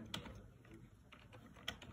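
Soft, quiet taps on a computer keyboard at a PC, a few sparse keystrokes over a faint background.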